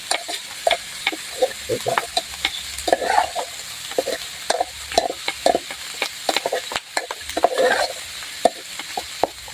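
Vegetables and thinly sliced fingerroot stir-fried in a pan, with a steady sizzle under repeated close clacks and scrapes of a spatula against the metal, alone without speech.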